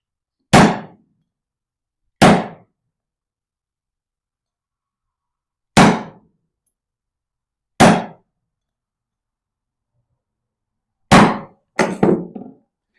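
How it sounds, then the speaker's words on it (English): A hammer strikes a chisel into copper resting on a rubber mat, sharp metallic clangs, five single blows a couple of seconds apart, then a quick flurry of lighter taps. "I'm chiseling on a piece of rubber mat."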